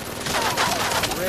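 Machine gun firing in the VR shooter Medal of Honor: Above and Beyond, a rapid, continuous burst of automatic fire heard close and loud without pause.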